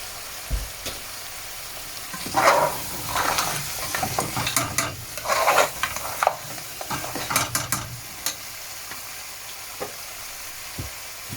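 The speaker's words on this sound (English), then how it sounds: "And I'm going to fry the meat with the spices for a few seconds." Lamb meat fries with spices in a family-size pot of lamb dhansak, sizzling steadily while a spoon stirs through it in bursts of close scraping, with a few sharp knocks toward the end.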